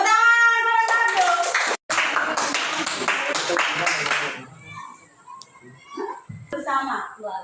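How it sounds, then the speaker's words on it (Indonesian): A school class claps hands together in a quick rhythmic pattern, followed by children's voices talking and calling out. "Tepuk tangan salah satu."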